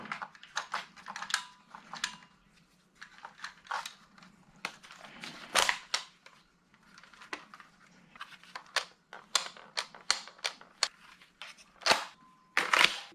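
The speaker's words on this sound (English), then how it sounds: "I'm having trouble actually getting the rounds down into the magazine" Foam rounds are pushed into a Nerf Rival Mirage XXIV-800 blaster magazine, making irregular sharp plastic clicks and snaps, close up, scattered in uneven bursts against a quiet background.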